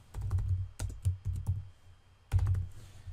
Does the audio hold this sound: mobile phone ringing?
no